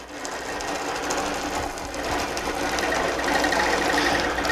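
Sewing machine running steadily while machine basting a quilt, a continuous loud mechanical whir with rapid needle clatter and no pauses or voices.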